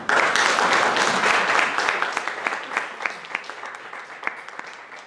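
An audience gives a round of applause after a talk, a dense burst of many hands clapping that starts loud and gradually thins into fewer, scattered claps.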